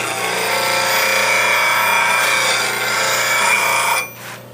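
A bench grinder grinds the tip of a negative rake scraper for wood turning, giving a steady, loud, bright whirring rasp that runs continuously, then cuts off near the end as the wheel spins down.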